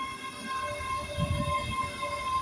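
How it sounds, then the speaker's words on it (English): A short three-carriage Class 385 electric train pulls into the platform at Kingsknowe station, giving a steady low rumble with wheel and rail noise and a faint high whine, moderately close and with no talk. "At least the train is pretty quiet and not too busy."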